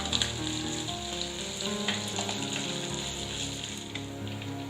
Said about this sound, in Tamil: கூடவே 2 பச்சை மிளகாவை எல்லாத்தையும் சேர்த்துட்டு லைட்டா ஃப்ரை பண்ணலாம்.